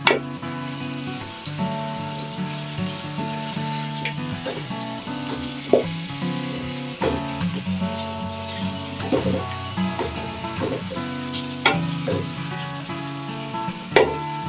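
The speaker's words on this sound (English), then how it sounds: "So I'll still allow it to fry for some minutes" Sweet potato and yam pieces fry in hot oil with a continuous close sizzle, broken by occasional stirring knocks and scrapes in the pan, with no one speaking.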